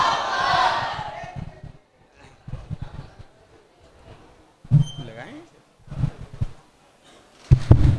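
A crowd at a school's annual day gathering chants the takbir slogan in call and response: a single voice leads, then the crowd answers in loud, short group shouts, several times.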